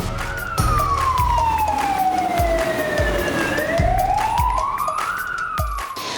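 An emergency rescue service vehicle siren wails up and down in a steady rising and falling sweep, loud and close, over a low engine rumble, in Ukraine.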